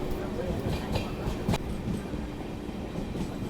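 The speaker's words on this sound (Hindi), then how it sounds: "अभी हमारी ट्रेन जस्ट एंटर करने वाली है हरिश्चंद्रपुर रेलवे स्टेशन पे।" A passenger express train rolls into Harishchandrapur railway station with a steady rumble, rhythmic clatter of wheels over rail joints and an occasional sharp knock, heard from inside a coach.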